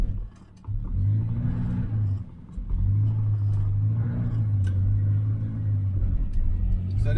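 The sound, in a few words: Triumph Mayflower car engine revving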